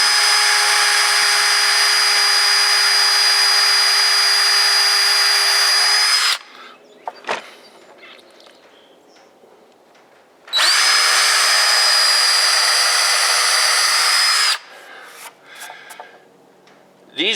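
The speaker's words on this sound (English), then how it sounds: "Now I'm going to take a 3/16 drill and just pre-drill it through the board." A power drill with a 3/16-inch bit whines steadily at high speed, pre-drilling through a wood board for several seconds, stops, then runs again in a second long, loud burst.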